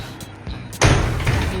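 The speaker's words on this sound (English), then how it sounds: "I can close the door to the bathroom." A door swings shut with a muffled thud, followed by a short stretch of low room noise.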